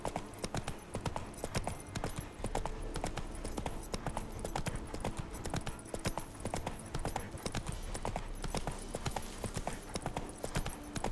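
Rhythmic clip-clop of a horse's hooves on the ground in The Witcher 3, steady, close and even throughout, with no talk over it.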